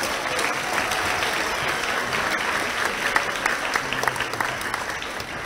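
Sustained applause from an audience at an elementary school second-grade awards ceremony, a dense, even patter of many hands clapping at once, fairly loud and continuous throughout.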